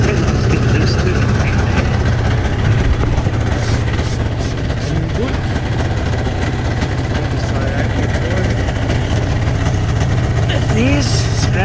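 Yamaha VK540 snowmobile engine idling steadily after a cold start, a constant loud low rumble running through the whole stretch with no talk over it.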